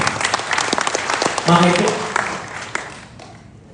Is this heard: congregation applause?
yes